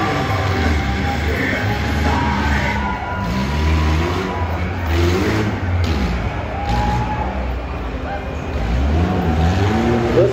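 Race car engine at a tuff truck event, revving and rising in pitch through repeated accelerations, loud and sustained with a rumbling low end and crowd noise in the background, with some talk mixed in.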